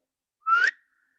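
A single short rising whistle, clear and fairly close, meant to call a campus puppy, standing alone in silence.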